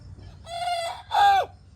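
A young rooster crowing in a garden, two short, thin, still-forming crow phrases close by, with a faint low hum underneath.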